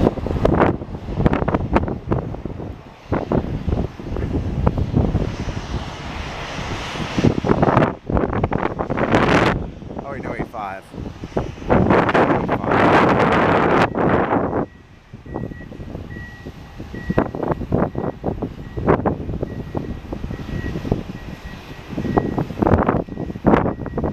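Gusting wind buffets the microphone outdoors at Columbus airport (CMH) during plane spotting, a loud, continuous rumbling roar that surges and drops in bursts with no one speaking.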